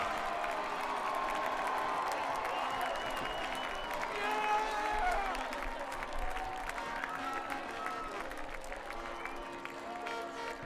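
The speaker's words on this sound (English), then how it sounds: "Everyone here in the stands up on their feet applauding these wonderful people who graduated from York in the 1960s." A crowd in the stands at a York vs OPRF varsity football game applauds steadily, a dense, continuous wash of clapping with some cheering mixed in, heard from within the crowd while a voice talks over it.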